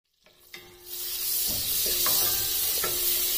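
Cardamom, cloves and coconut hit hot butter in a pan and break into a loud, steady sizzle that swells within a second and holds, with a few faint clinks of stirring.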